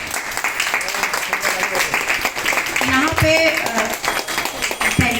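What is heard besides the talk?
audience applause and clapping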